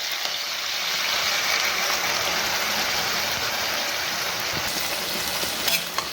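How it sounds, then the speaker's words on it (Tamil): A continuous hiss and sizzle of a pan where ground paste is poured into frying tomatoes for a rock-fish curry, steady and close, with a faint clink near the end. "இப்போ நம்ம அரைச்சி வச்சுருக்க பேஸ்ட்டை இதோட ஊற்றிக்கலாம்."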